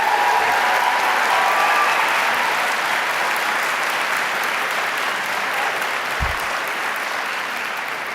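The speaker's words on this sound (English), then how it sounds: "I think they deserve a round of applause." A graduation ceremony crowd for Faculty of Health, Education and Life Sciences graduates gives sustained applause to a brass ensemble, a dense, even wash of clapping that holds steady for several seconds with no talking.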